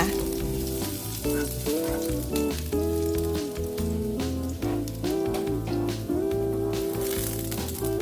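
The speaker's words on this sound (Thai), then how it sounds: "แม่พึ่งจะใส่น้ำมันลงไปประมาณ1ช้อนโต๊ะนะคะแล้วก็ตามด้วยกระเทียมสับค่ะ ผัดให้หอมฟุ้งไปเลยค่ะ" Minced garlic stir-fries in about a tablespoon of oil, giving a steady, close sizzle that runs under prominent background music.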